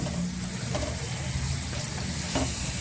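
Mangalore buns deep frying in hot oil give a steady, dense sizzle and bubbling that holds evenly throughout, with a couple of faint clinks of a utensil.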